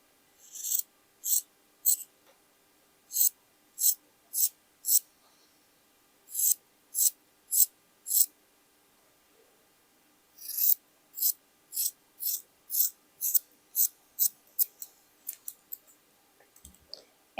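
Scissors cut through old denim jeans fabric in rapid, crisp snips. The snips come in quick bursts separated by short pauses, close up and otherwise quiet, with a softer thud near the end.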